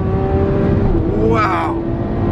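A Lamborghini Aventador with four-wheel steering and ceramic brakes runs on the Silverstone race track, its engine droning steadily with a brief rising note of acceleration partway through.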